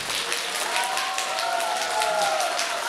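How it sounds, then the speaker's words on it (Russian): Audience applause at a Sabantuy festival, a steady wash of many hands clapping throughout with crowd voices and a faint melodic tone underneath. "Давайте аплодируем еще раз."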